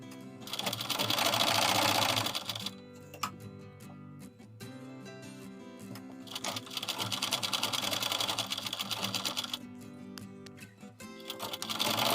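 A sewing machine stitches a band onto a baby cap in steady, close, rapid whirring runs, surging louder in two bursts and continuing almost without a break.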